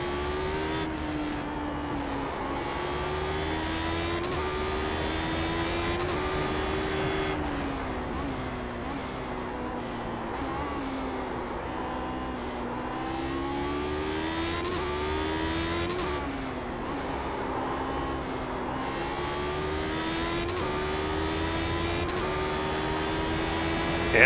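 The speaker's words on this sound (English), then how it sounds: "Cars behind are gaining." Lotus 79 race car engines at Spa in the iRacing sim, several cars droning and revving continuously with rising and falling pitch sweeps as gears shift, loud and steady throughout.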